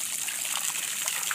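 Water gushes and trickles steadily from a hose or tap at a dock where a manatee drinks, a close continuous splashing flow.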